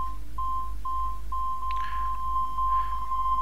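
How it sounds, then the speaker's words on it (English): A steady series of short electronic beeps in Assassin's Creed II, evenly spaced then quickening toward the end, with a soft whooshing tone swelling in briefly beneath them. "and you hear the beeping."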